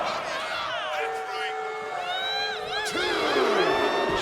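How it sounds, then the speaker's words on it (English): Arena crowd cheering in the WWE 2K25 wrestling video game, a loud sustained roar with whoops and shouts, running continuously under commentary. "The crowd is fired up."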